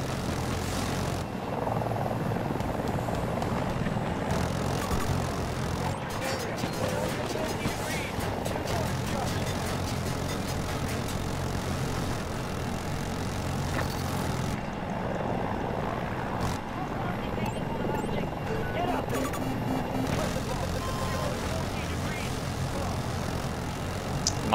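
Mi-240 Super Hind attack helicopter in the video game Battlefield 2042, a continuous rotor and engine roar mixed with rattling gunfire bursts and battle noise, with players talking over it throughout.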